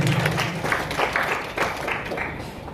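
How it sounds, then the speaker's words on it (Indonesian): An audience applauding for Rocky at an event, a brief burst of scattered clapping under a loud voice, rising and fading in uneven waves. "Tepuk tangan buat Bang Rocky."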